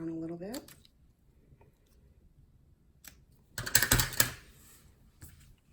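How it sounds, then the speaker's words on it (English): Scissors cut ribbon while a greeting card is being made, giving a short burst of crisp snipping clicks after a brief voice and a quiet pause, close but soft. "And then I'm going to take my scissors."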